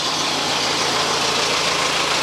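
A car engine idles steadily at close range, a continuous broadband rumble and hiss with no change in pitch and no other sounds.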